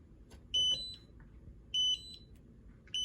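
A small electronic buzzer plays a 'yes' game sound: three repeated bursts of short, bright, high-pitched beeps spaced about a second apart in a quiet room.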